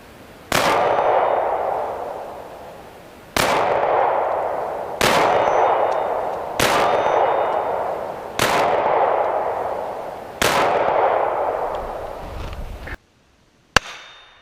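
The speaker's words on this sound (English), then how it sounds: "Let's get some shots of the recoil." A Beretta Nano 9mm pistol fires six sharp, loud, evenly spaced shots. Each report rings out and decays slowly, followed after a pause by a quieter seventh crack.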